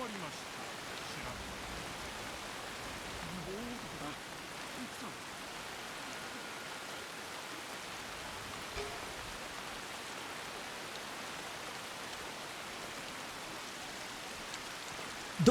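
Rain falls in the video game Assassin's Creed Shadows as a faint, steady, even hiss of drops that continues unbroken throughout.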